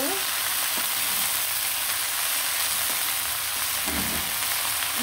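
Red amaranth greens poured into hot oil with browned onion and garlic, giving a steady loud sizzle throughout, with a few soft scrapes and knocks as the greens are stirred.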